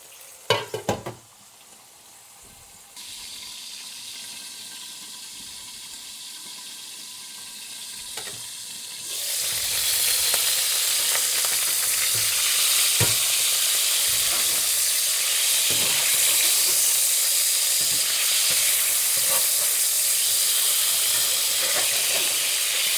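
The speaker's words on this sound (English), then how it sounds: "A couple of pieces of streaky bacon." Streaky bacon frying in a HexClad pan: after a few soft clinks, a quiet sizzle swells into a loud, steady, crackling hiss that holds on and on.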